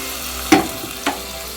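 Fried ingredients for rice payasam are tipped in and stirred, giving two brief wet sizzling bursts over a faint steady cooking hiss.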